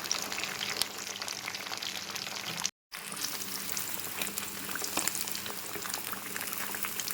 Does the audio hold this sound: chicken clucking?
no